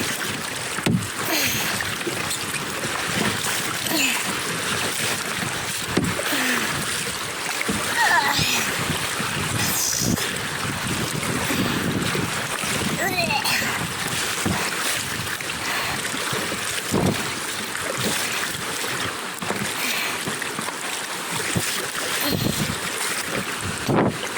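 Lake Superior waves splash and slosh steadily against a kayak in a continuous, choppy wash, with gusting wind rumbling across the microphone throughout.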